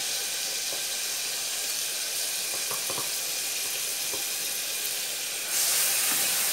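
Water hitting a hot pan of grated onion hisses in a steady, loud sizzle that fills the whole stretch, swelling brighter near the end, with no voices.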